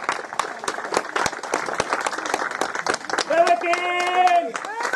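Spectators applaud a triathlon swimmer finishing a strong swim leg, with steady clapping under a commentator's talk and a brief vocal tone near the end.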